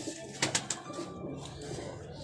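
Several pigeons kept as a hobby flock coo softly nearby, with a few brief louder calls early on over a steady low background murmur.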